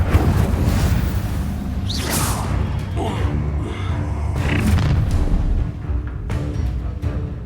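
In the Hogwarts Legacy video game, a fire spell sounds as booming, whooshing blasts that roll through dense, continuous battle noise, loud and close with little pause.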